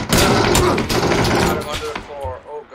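Gunfire from PUBG (PlayerUnknown's Battlegrounds) crackles in a dense, rapid burst of loud shots that tails off into scattered reports, with someone talking over it.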